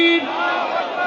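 A large crowd at a religious gathering shouts back in unison after a Takbir call, a dense, loud roar of many voices sustained through the brief moment.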